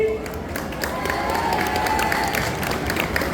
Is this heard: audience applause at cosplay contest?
yes